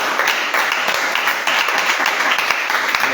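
A congregation at a church service applauds, a dense, steady wash of many hands clapping at once that holds evenly for about three seconds with no break.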